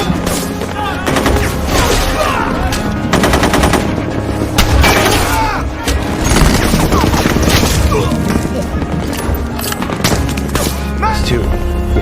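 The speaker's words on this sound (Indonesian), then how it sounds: "Mengetahui hal itu, para teroris langsung membalas tembakan sehingga perang pun terjadi." A movie firefight: bursts of machine-gun fire and rapid gunshots crackle continuously and loudly, with dialogue and scene sound mixed underneath.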